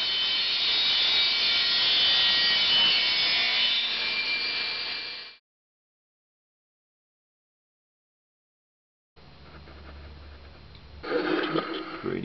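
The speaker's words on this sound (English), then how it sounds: "the edge of the board can be milled flat and square because the jig is square" Table saw milling a timber board edge in a square homemade jig: a loud, steady high whine of cutting for about five seconds, then silence, then quieter sawing and rubbing resumes.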